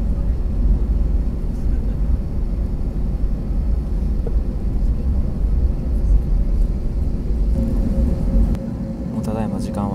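An airliner cabin fills with steady low engine rumble and road-like vibration during a slow taxi to take off at an airport, with a continuous broadband drone throughout and a faint clatter near the end.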